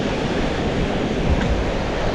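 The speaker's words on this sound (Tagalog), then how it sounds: "lakas ng alon oh" Strong ocean waves surging in a continuous broadband roar, loud and close with wind buffeting mixed in.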